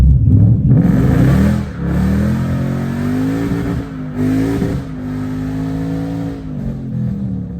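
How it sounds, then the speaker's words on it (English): A car with a welded differential roars and revs hard during a burnout, wavering pitch with dips as the locked drivetrain catches and lurches, loud and close. "you can kind of hear the locker locking up"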